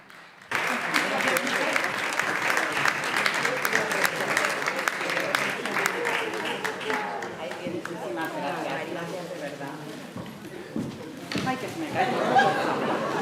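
Sustained audience applause at an RTVE press conference on the audiovisual industry, dense clapping with crowd chatter throughout, loud and close, thinning slightly toward the end with voices rising over it.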